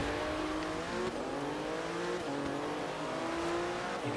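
Porsche engine note in the Forza Horizon 3 racing game, a steady loud drone with rising rev sweeps as gears shift, some tire squeal and continuous motor roar throughout.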